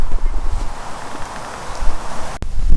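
Wind blowing outdoors at a carp fishing spot, buffeting the microphone in a steady rushing roar with rustling. A sharp click comes near the end.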